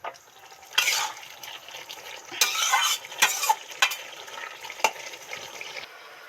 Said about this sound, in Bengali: একবার নেড়ে চেড়ে দিই বন্ধুরা, দেখি কি হচ্ছে।